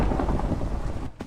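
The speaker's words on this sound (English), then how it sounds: "The sound of the thunder is cool in the game" A loud rumble of thunder from a video game fills the sound, a dense low roar with rain hiss that cuts off abruptly near the end.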